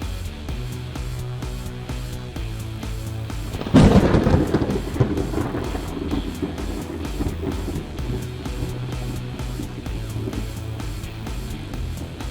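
A thunder effect for a lightning attack in a Fallout Wasteland Warfare tabletop battle: a sharp, loud crack that rolls into a long rumbling decay over a steady rain-like hiss.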